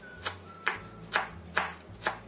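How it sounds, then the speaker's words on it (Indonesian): A knife chops garlic cloves finely on a cutting board, five sharp, evenly spaced knocks about half a second apart, close and clear over a low steady hum. "Kemudian di sini aku siapkan 3 siung bawang putih. Ini kita cincang halus."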